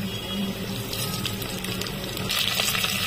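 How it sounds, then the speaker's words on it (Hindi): Whole spices — cumin, green cardamom, black peppercorns and bay leaves — dropped into hot oil, giving a brief, close, bubbly sizzle and crackle with a sharper burst near the end, no voices. "जीरा और दो जो है छोटी इलायची, 10-12 काली मिर्च, दो तेज पत्ता, इसको हमें तेल में डाल देना है"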